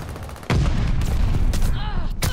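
Gunfire in the video game Call of Duty Vanguard: a sudden loud volley of shots with booming bursts, continuing close and heavy to the end.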